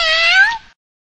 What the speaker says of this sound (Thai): แมวคิตตี้แคทบนหลังคาก็เดินมาทักทาย